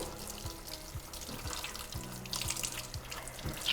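Water runs steadily from a tap into a sink during handwashing, a continuous splashing rush with a few brief knocks and splatters, close and alone.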